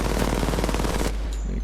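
Video game gunfire fired at a distant target, a rapid burst of close, loud shots in quick succession that stops abruptly, followed by a short quieter tail.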